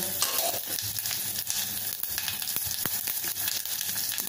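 Asafoetida dropped into hot oil, with turmeric, as a tempering, gives a busy, crackling sizzle with scattered sharp pops and light stirring, close and continuous, no voices.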